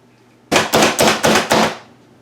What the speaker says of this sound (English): now I'm going to cut a few slices off to put into the dicer